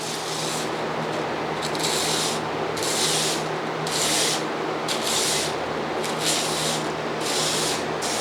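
Smoked salt scraped and mixed in the tray of a Big Chief electric smoker, a loud continuous gritty scraping with rhythmic strokes repeating roughly every second, close up and alone.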